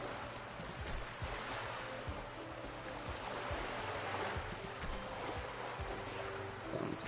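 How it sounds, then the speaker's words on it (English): Waves wash and surge steadily in a broad, continuous ambient wash in the city-building game Cities XL 2012, with soft irregular knocks layered underneath and no speech. "You can hear the waves crashing."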